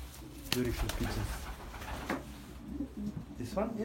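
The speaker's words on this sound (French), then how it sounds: "Beautiful pigeons." Pigeons coo softly in the background while a person talks over them.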